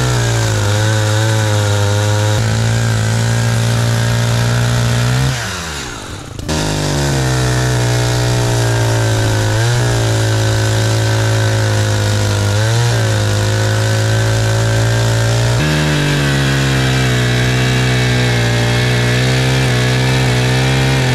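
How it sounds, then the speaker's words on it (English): An ECHO CS-590 Timberwolf chainsaw cutting a tree, engine droning loud and steady throughout, with a brief dip in pitch around one cut before it revs back up, no talk. "So we got a saw here, there's the tree."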